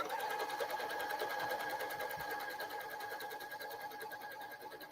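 A domestic sewing machine stitching the points of a quilt block, running steadily with a fast, even mechanical whir and rapid needle rhythm close by, easing slightly in loudness toward the end.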